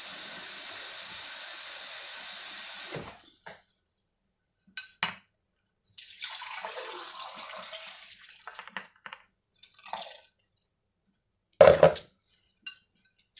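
Tap water hisses steadily from a faucet for about three seconds, then stops, followed by softer intermittent splashing and pouring into a plant container with a few light clinks.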